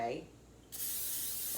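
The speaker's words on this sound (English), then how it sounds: "Let's spray the pan a little bit with the olive oil spray" Olive oil cooking spray is sprayed onto a pan in a home kitchen: one continuous, close, loud hiss lasting about a second after a brief quieter moment.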